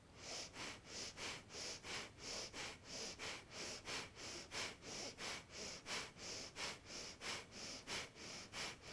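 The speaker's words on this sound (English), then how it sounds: "maybe a round of breath of fire here, sharp, even inhales, exhales from the belly" Breath of fire yoga breathing with sharp, even inhales and exhales pumped from the belly, a steady rapid rhythm of roughly two breaths per second, close to the microphone and alone.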